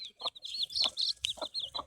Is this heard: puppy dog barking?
no